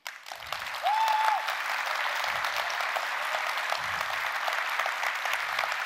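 Conference audience applauding after a testing talk, a dense sustained round of clapping from a large room that stays strong for several seconds, with a brief tonal whistle-like sound near the start.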